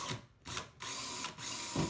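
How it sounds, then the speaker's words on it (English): An electric drill fitted with a 4-inch hole saw bores through a ceiling, its whine surging and dipping in short bursts as the cut proceeds, close and moderately loud with no talking. "center my drill bit on it, and you'll be amazed at how quickly this thing cuts a very neat, perfect"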